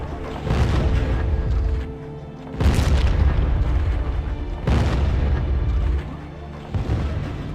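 A ship's cannon fires at asteroids in the space game Starship Corporation. Three heavy booming blasts come at spaced intervals, each trailing into a long rumble, with a fourth weaker thump near the end.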